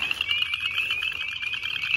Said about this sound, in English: Yep, there's leopard frogs.